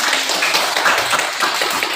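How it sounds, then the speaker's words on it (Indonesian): Children in a classroom clap together after a lesson on the sounds of objects like pots and cans, a short burst of quick, overlapping hand claps lasting about two seconds. "Tepuk tangan untuk kita."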